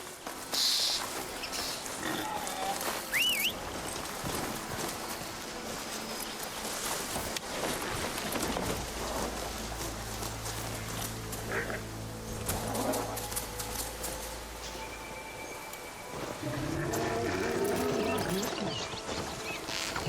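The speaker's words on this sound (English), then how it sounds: "God, them pigs are ugly." Pig grunts and oinks in the video game Horizon Forbidden West, several short calls over a busy game soundscape with a low rumble midway.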